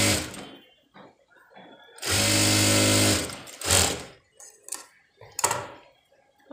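A sewing machine stitches a sleeve to its lining in a few bursts of motor whir, one long run and several short ones, with a person talking quietly in between.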